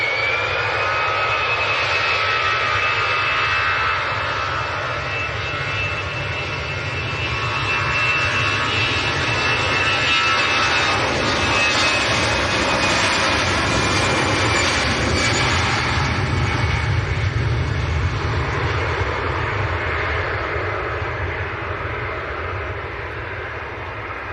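An EasyJet jet airliner departing runway 23 left at Manchester for the Isle of Man, its engine roar swelling to a loud peak with a high whine on top, then easing slightly, alone without voices.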